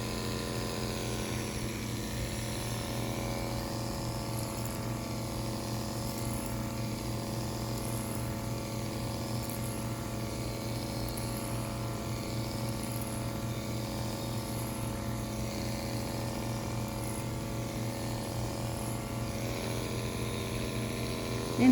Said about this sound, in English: I'm just going straight over with a vertical clipper over comb.